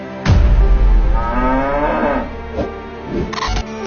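A cow lets out a long, loud, close moo that rises and then trails off. Short clicks and knocks follow it, and no one speaks.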